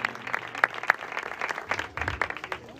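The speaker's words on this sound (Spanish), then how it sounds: "Le damos un aplauso al Señor" A church congregation at a revival campaign claps together in a steady, close patter of applause with crowd murmur, short and lively, without clear speech.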